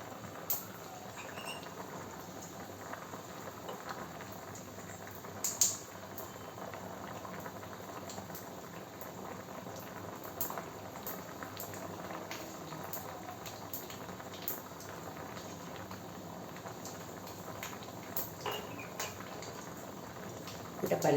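Tamarind leaf dal bubbling in a pot, a soft continuous simmer with faint pops and patter, heard close but quietly, with a voice talking at times over it.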